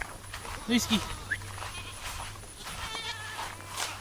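A goat gives a couple of short bleats close by on a farm, amid wind and outdoor background noise.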